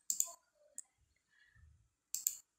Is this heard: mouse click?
yes